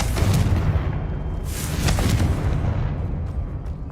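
A Confringo fire spell detonates in Hogwarts Legacy gameplay, a loud booming burst with a roaring, rumbling tail that fades over a few seconds.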